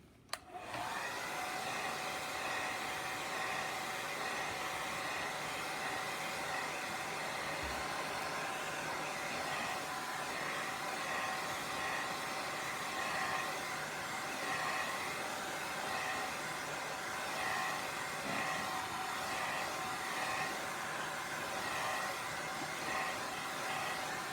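A hair dryer blows steadily on a watercolor painting with gouache, a constant close, even whooshing hum from a sharp start to the end of the stretch, alone with no talking.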